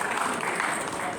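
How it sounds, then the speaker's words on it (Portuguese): Audience clapping at a panel discussion on smart cities and digital transformation, a short burst of dense, steady applause filling the room. "Salva de palmas aí para a Alana, os colegas"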